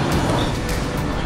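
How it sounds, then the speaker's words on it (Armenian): A metro train running through the airport in Sydney, a loud close rumble and roar of the passing carriages heard alone in a brief burst. "Այստեղ է այրոպորտի միջով անցնում է մետրո"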